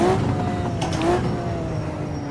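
A Maserati 250 engine hums under throttle while pulling out of a turn, a steady rising tone with a brief higher squeal midway, moderately loud and fading slightly toward the end.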